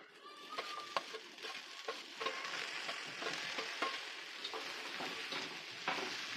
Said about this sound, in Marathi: आता जी आपण भेंडी भाजून घेतलेली ती घालायची याच्यामध्ये